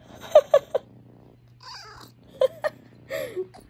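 A cat gives several short meows and a drawn-out caterwauling cry between quiet gaps, close by, over a faint low hum.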